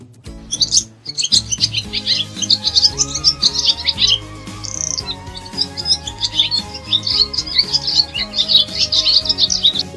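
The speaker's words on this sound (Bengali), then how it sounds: "ঘুঘু পাখি ডাকছে গাছে" A dove calling from a tree, heard as rapid, bright chirping over a soft musical backing that continues throughout.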